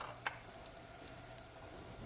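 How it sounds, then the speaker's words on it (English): French toast sizzles quietly in a hot skillet, a soft, continuous hiss of frying with a few tiny pops and crackles scattered through it. "Listen to that delicious sizzle."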